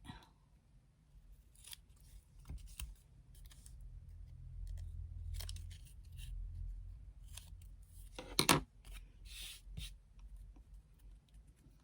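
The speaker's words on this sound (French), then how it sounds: "Je vais couper un petit peu ce qui dépasse ici." Scissors trim the excess paper from a handmade Christmas tag with a few sparse, faint snips spread across a quiet stretch. One sharper cut stands out near the end.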